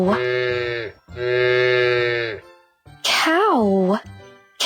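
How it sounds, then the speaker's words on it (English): A cartoon-style cow lows in two long sustained moos, loud and close, followed by a shorter wavering animal call, set among children's animal-name teaching. "Cow."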